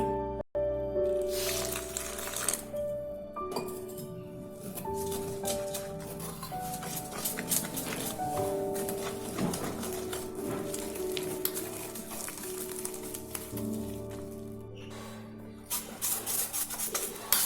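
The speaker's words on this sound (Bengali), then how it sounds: "এবার জল দিয়ে আমি অল্প অল্প করে গুলে নেব।" Gram flour is stirred into a batter with water, a little at a time, in a bowl, giving a continuous close wet squishing and rubbing with a faint hum underneath.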